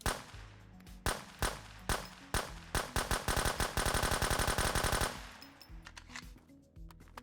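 Galil rifle fire in the survival shooter Road to Vostok: a few separate sharp shots, then a rapid automatic burst, then several more single cracks, close and loud with no talking.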